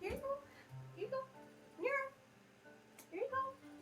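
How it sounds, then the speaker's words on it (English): Cats meow repeatedly around feeding time, four or five short rising calls close by, with quiet pauses between them and no talk over them. "Cats get fed at 3, and I totally forgot to feed them right before starting this stream."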